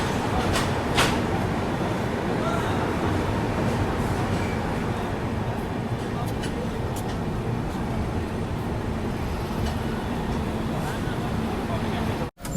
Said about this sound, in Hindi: तो अपनी ट्रेन का डिपार्चर हो चुका है MGR Chennai central railway station के प्लेटफॉर्म नंबर 4 से